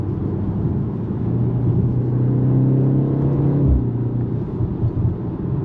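Exhaust of a 2025 BMW M235 driving, a steady low rumbling drone from inside the car with a rising engine note and a brief deeper thump near the end.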